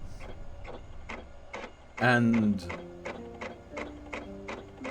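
A printer in the video game The Arrangement runs with a steady, rapid mechanical ticking and a louder whirring burst partway through, and a voice talks over it.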